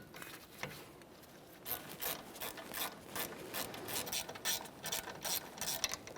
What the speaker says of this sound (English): continue on with your caliper slider mounting bolts.